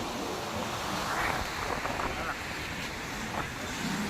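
Steady wind blows across a seashore at Puri, a continuous broadband rush with surf-like swells, loud and close to the microphone and buffeting it throughout.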